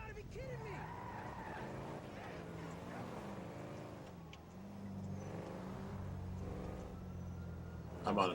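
A car's tires skid under the handbrake in Grand Theft Auto 5, with a revving engine and a drawn-out tire squeal heard fairly faintly, while someone talks over the driving.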